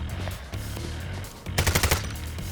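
Automatic gunfire in the heist shooter Payday 3 rattles out as one rapid burst of about five close, loud shots, following a stretch of quieter in-game background noise.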